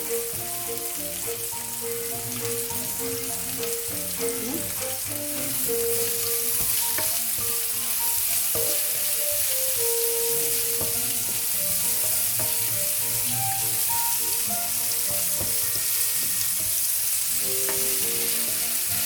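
Onions and other vegetables sweat in a pan, producing a loud, continuous sizzle with occasional stirring, close by and with no talk.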